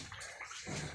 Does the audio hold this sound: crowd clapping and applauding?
no